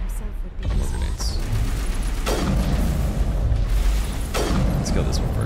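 Repeated grenade blasts in the Mass Effect 1 video game crack out with heavy booming bursts at roughly two-second intervals, each fading into a rumbling tail amid continuous gunfire and combat noise.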